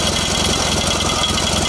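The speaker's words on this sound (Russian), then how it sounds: "На открытие выставки пригнали и мотоцикл М-72 50-го года выпуска, но стилизованный под агрегат 42-го года." A 1950 M-72 motorcycle, styled as a 1942 machine, runs at an exhibition opening, its engine giving a steady, loud, continuous idling throb with no pauses throughout.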